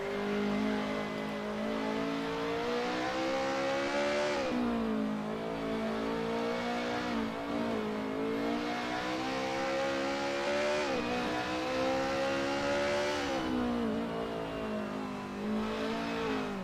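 Race car engines in a touge-style mountain road video game rev hard and keep climbing, with repeated upshifts and dips in pitch through corners, loud and unbroken throughout.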